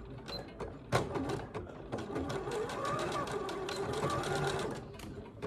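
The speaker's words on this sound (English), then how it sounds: "I'm just going to go to the straight stitch machine and do a small stitch here." A straight stitch sewing machine runs a short line of small stitches on swimsuit fabric, its needle mechanism whirring in a steady close rhythm with brief starts and stops.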